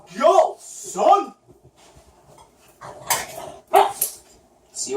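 Dog barking indoors near its food bowl, giving a couple of sharp, loud barks early on and another later, with clattering dishes and voices between them.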